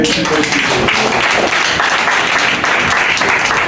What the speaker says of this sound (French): applaudissons fort pour Africa.